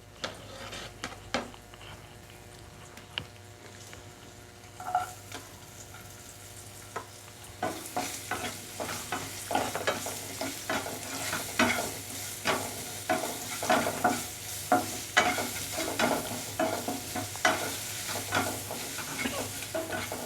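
Onions frying in oil with whole spices for mutton curry, a continuous crackling sizzle that grows busier with steady repeated stirring scrapes through the second half, no voices.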